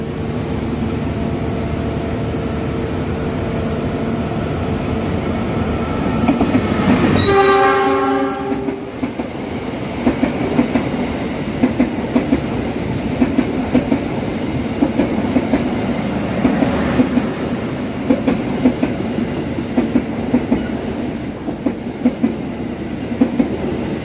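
A KA Brantas economy-class passenger train on the Jakarta–Blitar route leaves Solo Jebres station at night. Steady rolling rumble, then a loud multi-tone horn blast, followed by regular clickety-clack from the wheels on the rail joints.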